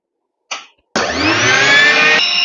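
A mixer grinder (mixie) running on solar power gives a short buzz, then after a brief pause starts up into a loud, steady motor whine that holds to the end.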